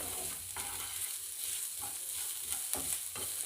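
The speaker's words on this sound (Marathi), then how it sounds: "हे सगळे मसाले कांद्यासोबत चांगले परतून घ्यायचे आहेत" Onions and ground spices such as coriander powder and turmeric sautéing in a pan over low flame, with a steady sizzle and occasional stirring scrapes, no talking.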